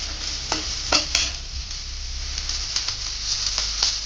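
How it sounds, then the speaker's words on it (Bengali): Prawns frying in a pan for a banana-stem curry: a constant bright sizzle with a few sharp spatula scrapes and taps, plus a low rumble underneath. "ভালো করে ভেজে নেবো চিংড়ি মাছটাকে"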